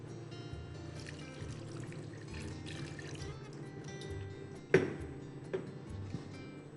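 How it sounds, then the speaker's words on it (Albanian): Water is poured gradually into a pan of cornmeal and wheat flour cooked in fat for fërgesë, a faint soft trickle with a few splashing clinks partway through. "Shtoj ujë gradualisht."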